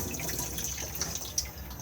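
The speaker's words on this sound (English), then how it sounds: "Open to the cassette on the grey lever just here, and then blue button to flush" Flush of a cassette toilet inside an Auto-Sleeper Burford motorhome, a short run of water rinsing the swivel bowl with faint trickles and drips, close and fairly quiet, no talking.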